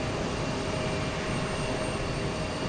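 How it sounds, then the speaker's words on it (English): Cessna Citation XLS business jet at Houston Intercontinental, a steady broadband engine roar with a faint high whine, constant and moderately distant with no rise or fall, no voices. "Cessna Citation XLS is going to be first in line here"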